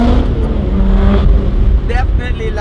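An Alfa Romeo 4C Spider sports car engine drones low and steady, rising slightly as it accelerates, with a voice starting to talk over it near the end.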